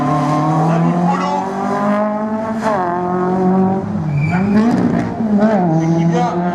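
An F2000 race car howls through a slalom course at Agon-Coutainville, its engine loud and close, the pitch climbing and dipping with gear changes and corners, and brief tire squeal.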